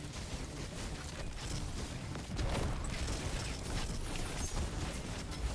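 A massive Ignition detonation in Destiny 2 booms amid dense gunfire and ability noise, a broad explosive burst that swells midway and stays loud and chaotic, with no speech.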